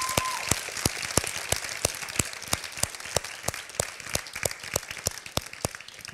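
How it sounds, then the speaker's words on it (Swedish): An audience at an awards ceremony gives steady applause, with evenly spaced sharp claps that carry through the whole stretch and no voices over them. "Stora applåd till silverpengen."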